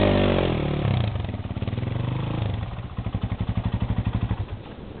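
An enduro motorcycle engine near Oradea sputters, catches and starts, then runs in a close, loud, pulsing idle with rhythmic throttle blips toward the end.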